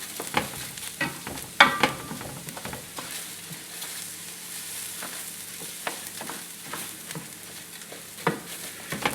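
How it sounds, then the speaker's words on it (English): Three cups of rice toast gently in a pan under a low, continuous frying hiss, with scattered scraping strokes and light knocks as the grains are stirred; no one speaks. "we just want to toast the rice gently"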